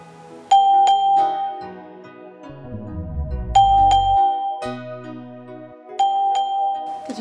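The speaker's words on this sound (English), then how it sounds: "Did you hear the doorbell?" A two-tone doorbell chimes three times, clear and close, each ding-dong ringing out over a low rumbling murmur in the gaps.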